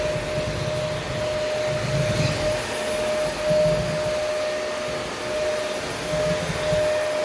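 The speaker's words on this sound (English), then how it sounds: "Just run the vacuum over it." A vacuum cleaner runs steadily over a hardwood floor, a loud constant whine with a high motor tone and rough airflow hiss, swelling slightly as it moves back and forth.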